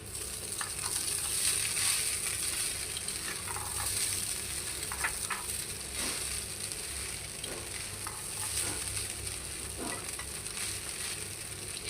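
Chira pulao of flattened rice with sambar masala is stirred in a hot pan: a continuous soft sizzle with intermittent scraping and spatula knocks, fairly close and steady, without speech.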